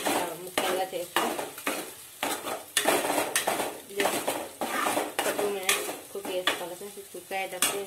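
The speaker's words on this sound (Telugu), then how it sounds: "ఈ విధంగా ఈ ఎగ్స్ రెండింటిని ఇట్లా స్మాష్ ముక్కలుగా చేస్తూ" Two eggs are smashed into pieces and stirred in a pan for egg fried rice, with a spatula repeatedly scraping and clinking against the metal in quick, uneven strokes over a soft sizzle, close and fairly loud.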